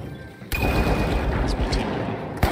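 A sonar grenade is thrown in the video game The Finals, landing with a sudden loud burst and then a sustained rumbling wash with a few brief higher blips, ending in another sharp hit.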